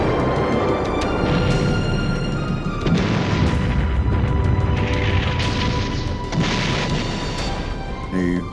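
Rocket launches and explosions during a wartime beach landing, a dense continuous roar of blasts and rushing bursts, loud and layered, with the barrage swelling in several waves.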